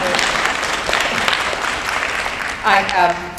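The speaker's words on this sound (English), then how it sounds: "Go ahead, clap." Brief applause from a panel audience, a soft steady patter of clapping that continues through the clip, with a voice speaking over it near the end.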